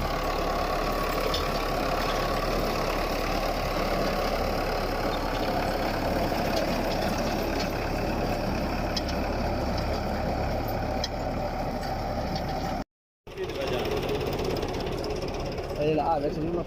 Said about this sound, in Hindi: ये चेक करें, आगे रूटर लगा हुआ है और पीछे ड्रिल हो रही है।